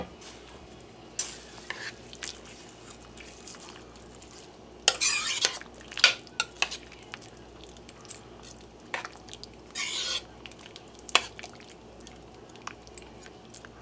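Raw long grain white rice being stirred into a steak fajita casserole in a pot, making close, intermittent scraping and rustling bursts with short pauses between strokes.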